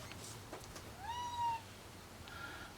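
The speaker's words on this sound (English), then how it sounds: "That's my cat." Pet cat named Lucy letting out a single clear, drawn-out meow with a rising then falling pitch, fairly faint and close against a quiet room, followed by a softer trailing cry.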